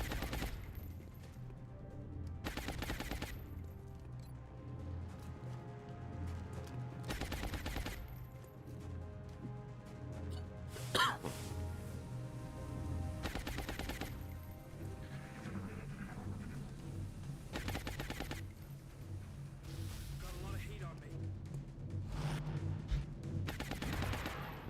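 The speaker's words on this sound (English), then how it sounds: "Suppressing fire." Suppressing fire in the XCOM Long War video game: several bursts of rapid automatic gunfire, each lasting about a second, spaced a few seconds apart over a steady ambient game drone.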